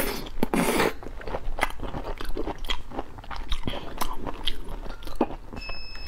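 Close crunchy bites and chewing of spicy gummy food, a quick burst of crisp crunching at the start followed by repeated wet chewing and crackling at an irregular rhythm, with no voice.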